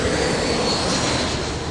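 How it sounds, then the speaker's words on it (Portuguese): An airplane passes close overhead near Congonhas airport in São Paulo, a loud, steady engine roar with a broad rushing whine that fills the whole moment without pause. "Por causa dos transtornos causados pelos ruídos dos aviões"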